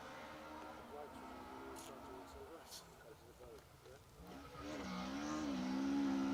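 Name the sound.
rally car driving on a stage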